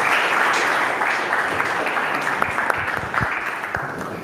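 An audience at an IT community unconference in Rijeka breaks into sustained applause, a dense wash of clapping that slowly thins over a few seconds.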